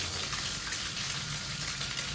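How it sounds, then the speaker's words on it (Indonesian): Spring onions and egg frying together in a pan for fried rice, giving a dense, continuous hiss of sizzling oil with no pauses. "Goreng terus sampai telurnya matang dan si daun bawangnya layu."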